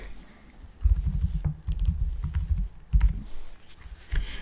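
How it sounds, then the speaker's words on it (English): Bursts of keystrokes on a computer keyboard as a password is entered, several quick runs of close, crisp clicks separated by short pauses, with no talking. "So we'll type in the proper password."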